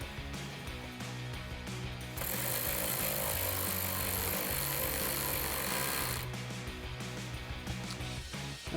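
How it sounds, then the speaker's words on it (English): A ratchet with a 10mm socket tightening the mounting of a Raxiom Axial Series LED tail light on a Jeep Wrangler JL, a steady mechanical clicking and grinding that grows louder in the middle, close up and without speech. "Then we'll grab our 10mm socket on our ratchet."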